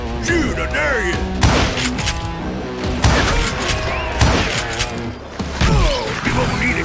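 Gunfire rattles and booms through a shootout in the Western video game Call of Juarez: Gunslinger, loud, dense bursts of shots with heavy thuds and crashes, while game characters shout over the action.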